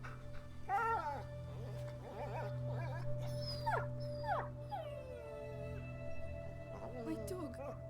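A dog in A Plague Tale: Innocence whimpers and yelps in a series of high, wavering cries, fairly near, over a steady low drone and quiet background sounds.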